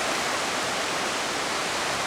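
A flooded Right Fork Holly River in Webster County, West Virginia, running nearly out of its banks, makes a loud, steady rush of broadband water noise with no break and no voices.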